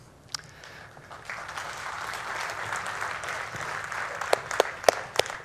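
Applause from a lecture audience builds from quiet into steady, broad clapping, with a few loud close hand claps popping out near the end.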